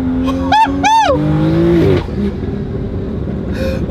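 A stage 2 BMW M2 revs and accelerates, its engine note rising and falling in quick bursts before settling into a lower rumble, with a brief chirp and voices faintly beneath.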